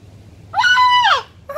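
A single shrill, drawn-out screech from a blue and gold macaw, loud and close, lasting about half a second, followed by the start of another cry.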